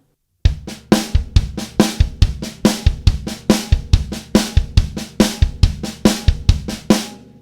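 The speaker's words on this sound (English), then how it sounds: "So now we're going to flip the accent on the snare drum." Snare drum hits in a steady repeating pattern, with some strokes noticeably louder than others, played alone and close up.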